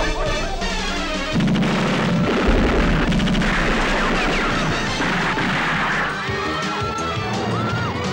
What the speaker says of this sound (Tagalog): Pinaulan lang kami ng bala!